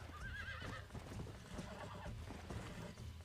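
A horse whinnies in the Red Dead Redemption video game, a loud rising-and-falling neigh near the start, followed by a steady clip-clop of hooves under dense game ambience.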